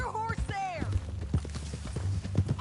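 Horse hooves clip-clop on a ranch in Red Dead Redemption 2, a soft rhythmic series of steps underneath loud spoken dialogue throughout.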